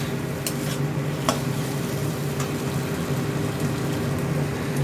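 Chopped tomato hitting frying masala for a fish curry, a loud continuous sizzle and crackle close up, with a few sharp clinks of a utensil against the pan and no talking.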